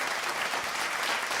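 Podcast audience clapping together in a brief, dense burst of applause, steady and fairly loud throughout with no talk over it.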